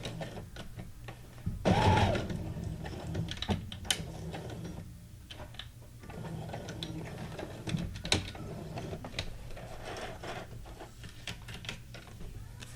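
Sewing machine running in short bursts as it stitches fabric scraps, a close, fast mechanical rattle that starts and stops repeatedly.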